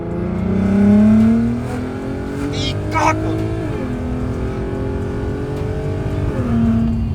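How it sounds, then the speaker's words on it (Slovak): A VW Golf R32 Mk5 with its exhaust flaps open revs loudly in town, the engine note swelling and dropping in several pulls while a man briefly exclaims. "Otvoríme klapku, sme v meste, takže výfuk otvor"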